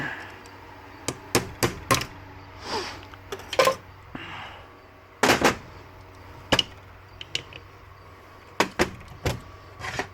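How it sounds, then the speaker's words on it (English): Claw hammer striking a Suzuki pickup's differential to knock it apart, a series of sharp metallic bangs in irregular bursts, some in quick clusters, close and loud over a quiet workshop hum. "Probably gonna get some criticism on my claw hammer."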